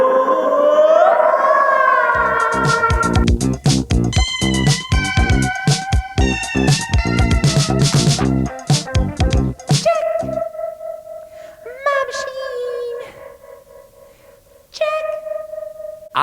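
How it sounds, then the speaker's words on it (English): An optical spring reverb pedal from Gamechanger Audio colors a loud instrument passage with echoing, washy tails that smear each note. The sustained tones ring on into the last seconds of the clip, and there is no talking. "the world's first optical spring reverb pedal made by Gamechanger Audio"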